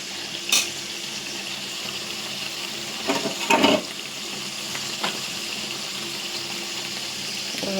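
Ground coconut fries in oil with a steady, broadband hiss throughout, broken by a few brief louder bursts of stirring or scraping.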